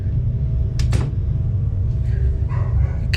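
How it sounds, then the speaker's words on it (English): A few short, distant dog barks rise over a steady low hum, spaced apart rather than in a rapid run. "Dogs barking and everything."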